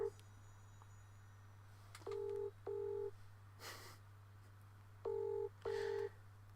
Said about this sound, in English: I can hear his phone ringing.